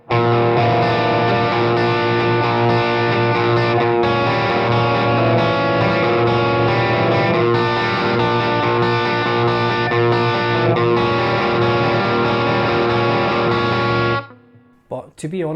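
Sustained distorted chording on a Greco Les Paul electric guitar plays loud and steady in a riff for about fourteen seconds, then stops abruptly with a short decaying tail.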